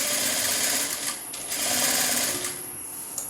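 An electric sewing machine runs stitches along a folded cloth edge, its fast steady whirring and needle chatter close and loud, with brief easing and speeding up of the motor.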